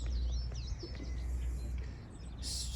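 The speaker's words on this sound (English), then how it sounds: "Feeding the birds." Garden birds at a feeder at a plant nursery chirp in a few quick tweets, heard faintly over a steady low rumble.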